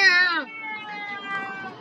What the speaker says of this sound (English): oh my god, my cat is going insane.